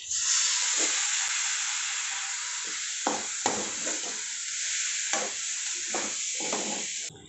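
Washed Indrayani rice tipped into spiced masala in a pan for masale bhat, giving a steady loud sizzle with intermittent stirring scrapes throughout, no talk.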